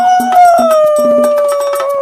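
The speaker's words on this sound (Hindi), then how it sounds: "ये देख आदतवश वो लोमड़ भी लोमड़ियों के सुर में सुर मिलाकर चिल्लाने लगा।" A fox joins a pack of foxes in a long, loud howl, its drawn-out cry sliding slowly downward in pitch over other voices and light rhythmic ticks.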